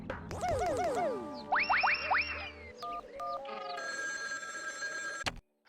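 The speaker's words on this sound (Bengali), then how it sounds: "চল একটু আড়ালে গিয়ে চিমটির মামিকে ফোন করে জানাই" A telephone rings in a Bangla cartoon comedy, following a run of springy cartoon boings and sliding whistle effects. Short electronic ring tones repeat clearly near the end, with no talking.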